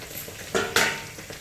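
A malpua, a sweet maida and suji pancake, is flipped with a spatula in a frying pan. Two quick, close scraping knocks ring out over a faint, steady sizzle.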